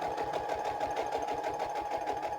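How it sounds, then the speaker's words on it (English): A sewing machine stitches a recipe card onto a paper flap for a farmhouse-style junk journal, running steadily with a rapid, even needle rhythm, close and continuous with no talk. "But for now, I'm just going to stitch it on"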